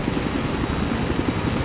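A helicopter in a video game flies steadily, its engine drone and rapid rotor thump continuous and fairly loud throughout, with no voices.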